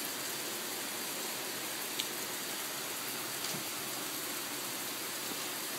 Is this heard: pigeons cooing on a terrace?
no